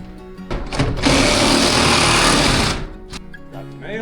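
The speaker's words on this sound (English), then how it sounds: "we got a Sawzall. We're gonna cut the nails." A Sawzall reciprocating saw cuts through nails in a cabin wall frame, a loud, dense buzzing burst of about two seconds, preceded and followed by quieter handling noise.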